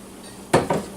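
A whisk clatters twice against a pan as ale is beaten into a Welsh rarebit cheese sauce, two quick close metallic scrapes after a quiet moment.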